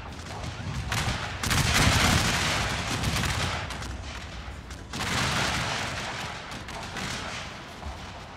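Musket volleys crash out in a Gettysburg battle video game, heavy overlapping gunfire in two big rolling bursts with scattered shots between, loud and dense, with no voices.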